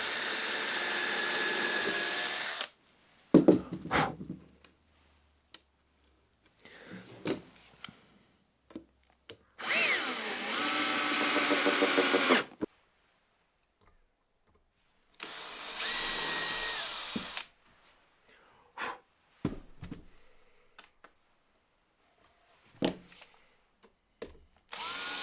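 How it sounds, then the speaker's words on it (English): A power drill bores pilot holes into MDF in several separate loud whirring bursts, each a few seconds long, with quiet pauses and small handling clicks between them. "I'm drilling pilot holes because MDF just splits so easily."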